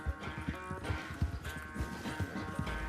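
Horse hooves clip-clop at a steady walking rhythm in Red Dead Redemption 2, close and fairly loud, with a faint murmur of game ambience underneath.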